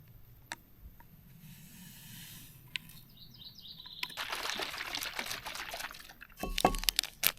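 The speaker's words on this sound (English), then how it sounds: "Make up this isotonic beverage. I've got 500 ml of water here." Water poured from a bottle to mix a ration isotonic drink, a soft liquid trickle that builds into a louder splashing pour in the second half, close by and with no talk.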